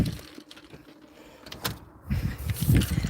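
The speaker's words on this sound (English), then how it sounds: "Let's go out the back door here." A van's back door opens outdoors, a mechanical whir and click followed by a louder rumbling clunk as it swings open, close by with no speech.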